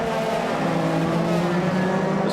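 A Euro Formula Open race car sweeps through Monza's Curva Grande during qualifying, a steady high-revving engine drone held loud and close for the whole stretch with no voices over it.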